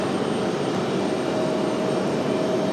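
The jet engines of an America West Boeing 757 roar steadily at RDU airport, a broad, loud, unbroken rumble with a faint whine running through it and no talk.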